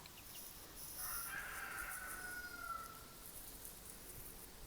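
A rooster crows once, faint and somewhat distant, over a quiet outdoor backdrop in a backyard chicken pen covered with bird netting.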